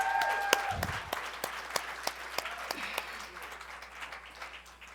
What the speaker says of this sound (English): I want to give CJNY a big round of applause